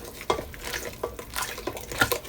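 Banana cake batter with milk being stirred in a bowl, a spoon scraping and clinking against the sides in quick uneven strokes, close and fairly loud, with no voices.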